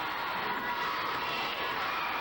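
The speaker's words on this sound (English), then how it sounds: "The crowd chanting, "Go, Steve, go."" A wrestling arena crowd at a KSW match keeps up a steady, dense roar of chanting and cheering for Steve Savage, distant and unbroken throughout, with no single voice standing out.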